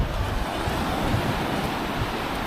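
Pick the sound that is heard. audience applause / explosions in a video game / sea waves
sea waves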